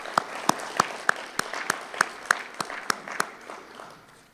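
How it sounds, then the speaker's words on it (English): Scattered applause from a breakfast forum audience thanking sponsors: a dozen or so distinct, evenly spaced sharp claps over a soft background, tapering off toward the end. "Please join me in thanking our sponsors with a round of applause."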